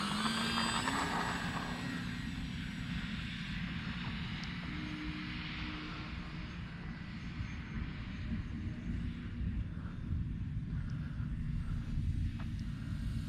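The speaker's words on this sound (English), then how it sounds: "This is a good flying little plane" A Durafly Ugly Stick V2 RC airplane flies overhead on a slightly breezy day. Its small engine gives a steady, moderately distant drone that swells and fades a little, with soft wind noise and no talk.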